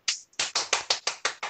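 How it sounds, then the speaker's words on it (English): Hands clap in a quick, close run of about eight sharp, even claps lasting under two seconds, with no voices. "Give them a round of applause, right?"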